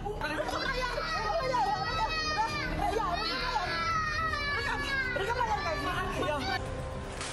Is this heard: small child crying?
yes